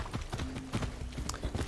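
Horse hooves clip-clop steadily in a riding gait through Far Cry 6, the hoofbeats close and rhythmic with a faint tonal hum running beneath them.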